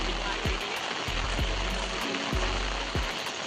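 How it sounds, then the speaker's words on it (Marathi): Heavy rain falls in a Konkan village, a constant, full rushing hiss near at hand with occasional dull knocks underneath, and a voice faintly present in the background. "परत जोरदार पाऊस आला आहे"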